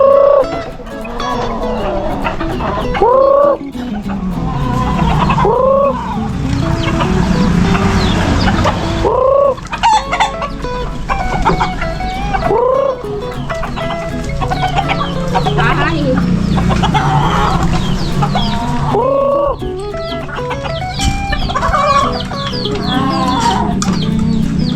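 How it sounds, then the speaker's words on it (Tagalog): Backyard pet chickens cluck and squawk repeatedly at close range, with a rooster-like call now and then, while people talk intermittently nearby. "Alaga namin manok."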